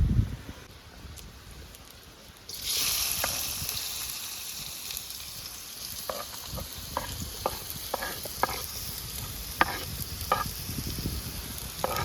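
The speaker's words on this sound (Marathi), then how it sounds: "तर आपले व्हेजिटेबल मस्त फ्राय होतात मंडळी" Vegetables fry in hot oil for Maggi cooked over a wood-fired chulha. A steady sizzle starts abruptly and keeps going, with scattered stirring clicks and scrapes close by.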